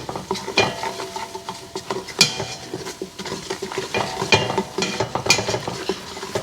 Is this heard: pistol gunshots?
no